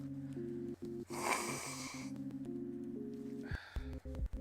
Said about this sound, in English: I'm gonna try and blow my nose before I get started here.